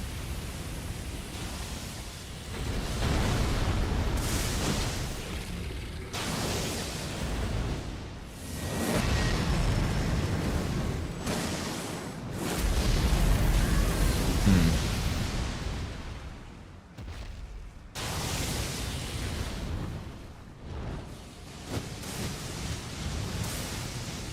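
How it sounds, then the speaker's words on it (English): Heavy explosions from the Elden Ring DLC video game roar in a series of loud, broad, rumbling bursts, several blasts over about twenty seconds with brief gaps between them and no voices. "you need to get used to the timing on the explosions also"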